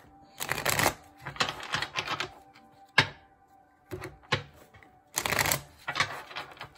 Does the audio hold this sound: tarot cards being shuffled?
yes